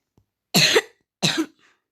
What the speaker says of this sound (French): c'est toi qui tousse comme ça là?